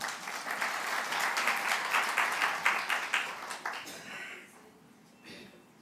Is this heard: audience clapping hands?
yes